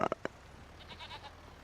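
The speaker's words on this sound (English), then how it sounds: "Those goats make a lot of noise." Goats bleating on a farm in the video game Farming Simulator 25, with three short, fairly loud bleats at the start followed by fainter, higher calls in the background.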